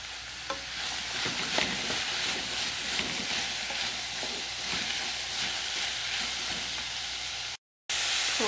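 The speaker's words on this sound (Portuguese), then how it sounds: "Coloquei um pouco de coentro e o meu molho de tomate. Agora é só deixar refogar um pouco." Carrot, cilantro and tomato sauce sauté in a pan with a constant loud sizzle and hiss, punctuated by the scrape and clack of stirring, then a brief dropout before the frying resumes.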